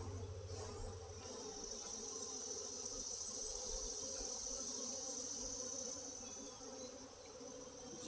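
Angry honey bees swarm over an opened hive while the colony is shaken and moved into a lower box, producing a continuous, even buzzing drone that holds steady at a fairly soft level throughout.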